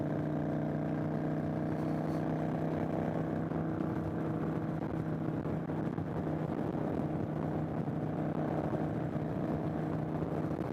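Steady, continuous drone of a 2015 Kawasaki Vulcan 900 Classic motorcycle cruising, a low engine hum mixed with wind noise at an even, fairly faint level throughout.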